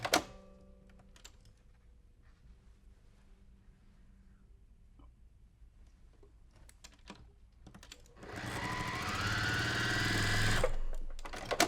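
A sewing machine runs in one steady burst of stitching as two quilt block pieces are joined with a 1/4 inch foot, loud and close for about three seconds after quieter handling noises.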